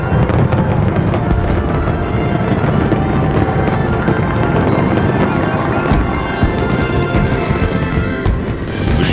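Fireworks grand finale over Louisville, thousands of shells bursting in a dense nonstop barrage, loud and continuous with overlapping booms and crackles filling the sky.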